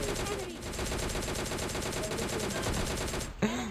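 A DP-28 machine gun sprays rapid, sustained automatic fire in PUBG Mobile Lite, with loud, dense, continuous shots. A sharp distinct sound follows near the end.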